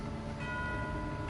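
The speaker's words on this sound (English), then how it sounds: "You hear the sound of the bell. That's the sound of the bell." A bell rings in the video game Genshin Impact, its steady, resonant tones sustained under a dense layer of game ambience for just over a second.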